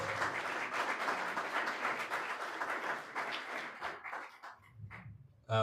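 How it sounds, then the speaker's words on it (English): Audience applause at a conference event, a dense wash of clapping for about four seconds that thins out into scattered claps before fading, with a brief low burst near the end. "Let's give her a round of applause, please."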